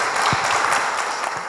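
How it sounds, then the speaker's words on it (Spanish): Short burst of dense audience applause welcoming a speaker at an indoor conference on enforced disappearance, many hands clapping steadily at close range. "te damos la bienvenida también con un aplauso"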